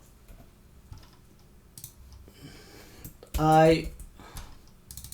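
Soft keystrokes on a computer keyboard tap away while text is entered, faint and sparse under a man's speech, with a louder voiced burst partway through.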